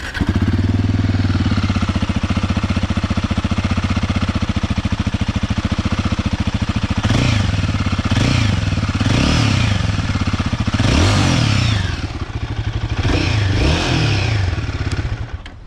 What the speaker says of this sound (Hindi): गाइस आपको सुनाने जा रहा हूँ गोरिल्ला एपेक्स 450 का एग्जॉस्ट नोट